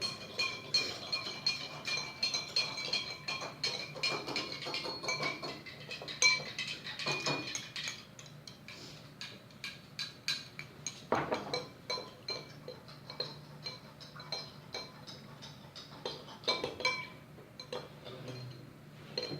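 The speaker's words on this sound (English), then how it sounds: "put another teaspoon in, swirl it around until you reach the saturation point" A teaspoon stirs and swirls a solution in a glass, giving a steady run of quick, close metallic clinks and ticks that keeps going from start to finish.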